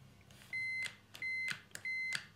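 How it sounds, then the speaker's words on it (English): A continuity tester beeps while wiring is checked across switch pins and battery terminals: three short, bright electronic beeps in a steady rhythm, fairly faint, with no talk. "Got my beep through, so I've got my continuity."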